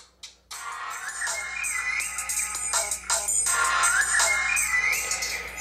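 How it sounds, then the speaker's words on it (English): A melodic phone ringtone plays through the loudspeaker of a Siswoo Cooper i7 smartphone, a bright, continuous tune with a faint steady hum underneath and no talking. "we're going to test here the loudspeaker of the Siswoo Cooper i7"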